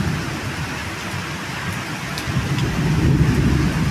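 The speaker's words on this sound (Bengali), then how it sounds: "আর এই যে টিনের চালের শব্দ এত সুন্দর লাগে" Heavy nighttime rain drums on a tin roof in a steady, dense roar that swells a little louder toward the end, with no talking.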